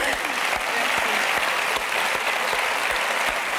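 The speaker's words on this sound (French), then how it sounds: "et on peut l'applaudir pour ça." Studio audience applause on a French TV show, a steady, dense wash of many hands clapping that holds at an even level throughout.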